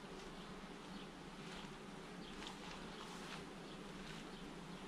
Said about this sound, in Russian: здесь пчелы очень много, смотрите